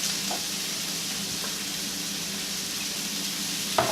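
Chicken and vegetables sautéing in oil in a pan, giving a steady, moderately loud sizzle throughout with a faint clink near the end and no talking.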